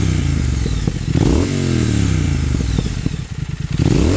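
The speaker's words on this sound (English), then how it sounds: "the Vance and Hines exhausts certainly make a huge difference to the" A 2019 Triumph Speed Twin motorcycle with aftermarket Vance and Hines exhausts revs repeatedly with a deep, rumbling exhaust, pitch rising and falling through several throttle blips, loud and close.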